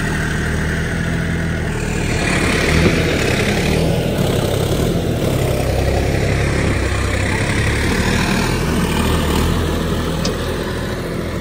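A John Deere 5310 tractor with a power upgrade runs steadily, its engine a loud, continuous, even drone close by that holds without pause throughout.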